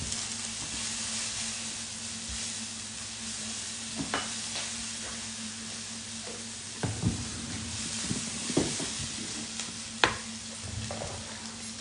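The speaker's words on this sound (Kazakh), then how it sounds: "Пияздың дәмін келтіріп қуырып алайық" Chopped onions frying in a pan for a chicken and potato pie filling: a steady, quiet sizzle runs throughout, broken by several scraping stirs of a utensil against the pan, with no voices.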